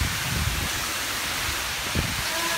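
Steady rain falling at an outdoor food festival, a continuous hiss of drops with faint low rumbles and murmurs of people underneath, constant and fairly loud throughout.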